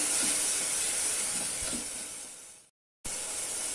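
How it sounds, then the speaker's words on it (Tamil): Chopped tomatoes sautéing in a pan for a Salem-style mutton masala gravy give off a loud, steady steamy hiss that fades slightly, breaks off in a brief silence, then resumes. "இதை நல்லா வதக்கிக்கலாம்"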